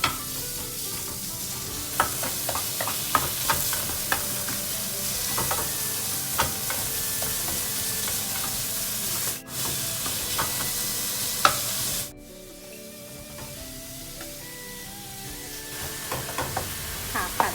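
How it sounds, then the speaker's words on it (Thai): Minced pork stir-fried with garlic and chili in a hot pan, heard as continuous sizzling with frequent spatula scrapes and clinks, then a quieter simmering stretch after a short break. "เอาหมูสับ ค่ะ ลงไปผัดค่ะ ลงไปผัดกับกระเทียมกับพริกเลยนะคะ"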